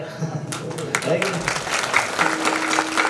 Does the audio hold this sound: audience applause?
yes